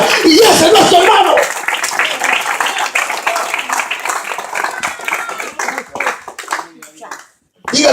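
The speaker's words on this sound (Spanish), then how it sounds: "Es fuerte ese aplauso." A church congregation bursts into clapping and cheering with some laughter and voices mixed in, dense and fairly loud at first, then thinning into scattered claps before fading out.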